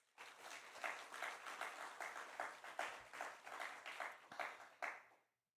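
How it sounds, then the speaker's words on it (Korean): An audience claps at a university chapel service welcoming alumni association officers, with steady rhythmic group applause in repeated pulses for about five seconds before stopping abruptly. "여러분 박수 한번 하겠습니다."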